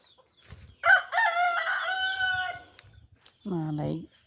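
A rooster crows loudly up close, followed by a second shorter crow, with quiet background clucking and faint voices.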